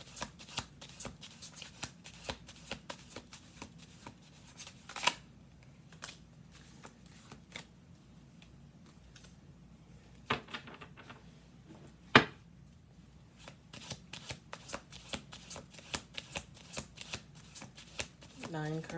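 Tarot cards are shuffled repeatedly, with crisp riffling and tapping bursts spread across the stretch and soft quiet talk in between.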